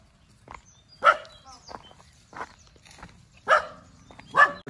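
A dog barks on a morning walk near farm fields, four or five loud, separate barks spaced about a second apart, fairly close, with quiet footsteps and ambient noise between them.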